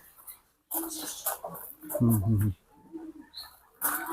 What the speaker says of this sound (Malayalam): ഇത് ഡയമണ്ട് ഗൾഫ് ഗൾഫ് രാജ്യങ്ങളിൽ കാണുന്ന പ്രാവ്